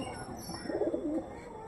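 A pigeon gives a single short, soft coo at close range over quiet background noise.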